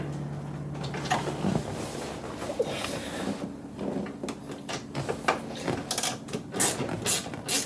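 Screws are being undone inside a Porsche Boxster 986 interior, heard as close, irregular clicks, ratcheting and scraping rattles with brief pauses, the taps growing sharper near the end.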